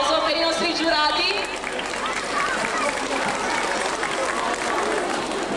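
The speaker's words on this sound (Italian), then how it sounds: "Un applauso per i nostri giurati." A crowd applauds the jury at the 2003 Candela carnival, a continuous, loud, crackling wash of clapping, with a voice carrying over it at the start.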